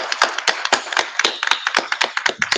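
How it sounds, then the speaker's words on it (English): Audience applause at a drug policy conference, a burst of sharp, uneven hand claps close by, brief and lively. "Let's give a warm round of applause."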